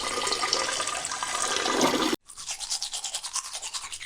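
Tap water runs steadily beside a sink while someone brushes their teeth, a constant splashing rush that cuts off abruptly, followed by close, rhythmic scrubbing strokes.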